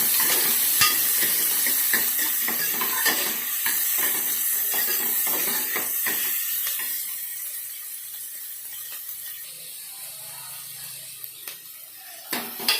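Chopped medium onions sizzle in a hot pan for chana masala, a steady frying hiss with occasional stirring scrapes, loud at first and gradually settling softer toward the end.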